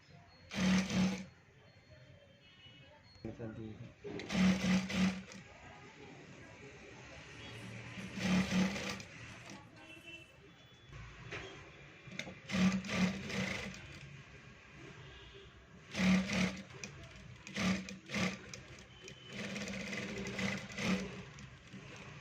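A sewing machine stitching bell sleeves onto a garment, running in repeated bursts of rapid whirring several seconds apart, close and clear, with quiet pauses between runs.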